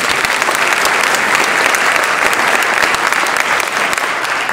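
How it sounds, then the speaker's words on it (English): Loud, sustained applause from a crowd, steady clapping that fills the room with no voices above it. "Let's give her another round of applause."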